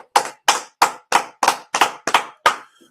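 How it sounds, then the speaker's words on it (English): Seven sharp, evenly spaced claps ring out, close and loud, at a steady beat of about three per second, then stop. "Let's clap it up for the Most High Christ."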